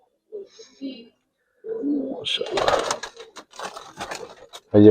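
Giribaz and colored pigeons cooing in short, soft bursts, with someone talking nearby over much of it and a loud thump at the end.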